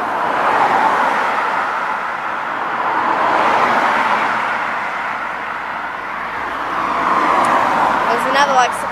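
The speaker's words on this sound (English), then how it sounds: "Random cars go past." Cars drive past on a cold, icy road outdoors, rising and fading in a few slow swells as each vehicle approaches and recedes, fairly loud against quieter gaps.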